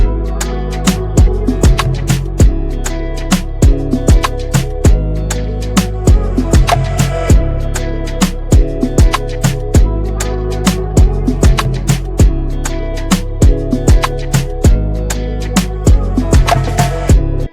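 A realistic-sounding programmed guitar melody in FL Studio plays over a bass line, sub bass and steady drums, with a full, dense mix and a driving, even rhythm throughout.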